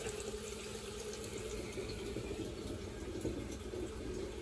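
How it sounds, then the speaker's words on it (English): Cold water runs from a tap through the plumbing of a narrowboat under construction, a steady, continuous rush with no talk over it. "I can hear water going outside."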